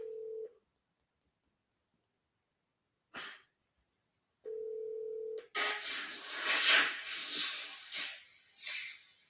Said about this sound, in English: Make a phone call real quick.